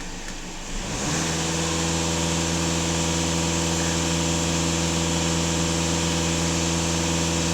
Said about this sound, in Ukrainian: Даю газ в пол.